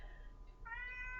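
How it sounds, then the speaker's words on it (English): A pet cat gives a single short meow, faint and a little distant, in an otherwise quiet room with no talking. "That was my cat."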